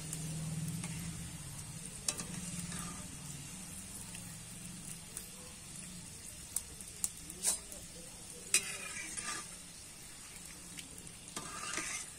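Dal chanachur fries in hot oil with a continuous, fairly faint sizzle, broken by scattered ticks and crackles and occasional stirring scrapes, with no voices.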